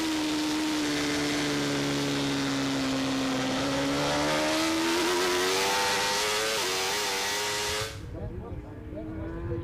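Superstock racing motorcycle at a road race, a loud, high engine wail under trackside commentary, pitch stepping down as it changes gear before cutting off sharply as it passes.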